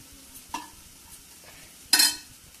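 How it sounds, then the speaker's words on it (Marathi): Masala paste sautés in a pan for a Marathi-style crispy matar karanji, a faint low sizzle broken by two scraping stirs of a spoon, the second louder and longer. "1-2 मिनिटं परतून घेऊया."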